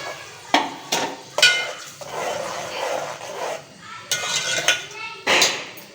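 A metal utensil clinking against a pan while spice paste roasts, with several sharp near clinks and scrapes spread through the clip over softer sizzling, and someone talking in between.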